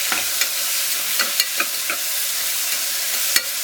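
Tomatoes fry in a pan for a tamarind vegetable curry, a steady sizzle broken by a few light scraping stirs of a utensil against the metal. No voices.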